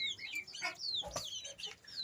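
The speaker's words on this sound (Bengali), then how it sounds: "এগুলো আমেরিকান একটা ব্রিড, আমেরিকান ক্লাস্টার ডাক" American crested ducks calling nearby, a quick run of short clucking and squawking calls overlapping one another, fairly faint and without talk.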